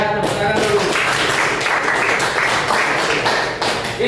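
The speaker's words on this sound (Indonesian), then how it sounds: "Tepuk tangan dulu." A classroom of students at a vocational high school breaks into steady group hand clapping, a dense sustained patter of many hands filling the room for several seconds.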